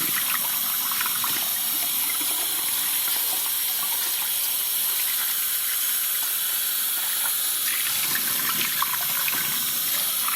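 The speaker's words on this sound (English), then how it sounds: "So you have to wash your lentil properly." Lentils are rinsed under running water, a continuous, loud, hissing tap stream that pours without pause for about ten seconds, with no talking.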